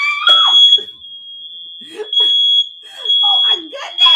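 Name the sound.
smoke detector alarm going off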